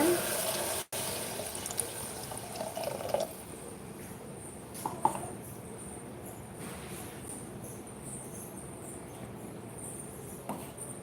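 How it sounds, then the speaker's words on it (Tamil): Two tumblers of water are poured into a pot while cooking tomato rice. A brief rushing splash comes first, then a steady low hiss and a faint bubbling wash that continues alone. "ரெண்டு டம்ளர் தண்ணி சேர்த்தாச்சு"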